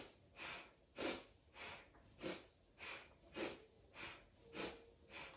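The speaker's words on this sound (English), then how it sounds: "Inhale to the left, exhale to the right." Slow, regular breaths in and out during seated desk yoga, about nine soft airy pulses evenly spaced, close and quiet with no talking.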